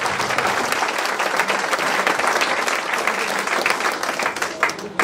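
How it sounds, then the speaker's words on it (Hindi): A crowd at a business meeting in Bolpur, West Bengal claps enthusiastically for the management and leaders, a loud, dense, continuous round of applause filling the room without letup, with a few sharper claps near the close. "तो एक बार पूरी मैनेजमेंट के लिए, सभी लीडर्स के लिए, सभी सेकंड लीडर्स के लिए जबरदस्त तालियां।"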